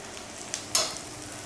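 Garlic ginger paste frying in a pan for Punjabi chole makes a brief close sizzle with a couple of sharp spatter bursts over a low hiss, with no talk.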